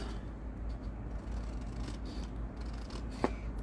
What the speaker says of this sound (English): For now, I am going to cut this white line off.